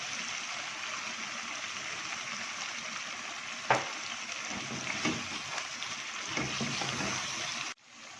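Tomato chicken simmering and frying in a pan gives a continuous, even hiss with a few soft stirring knocks partway through, close by, before it cuts off abruptly near the end.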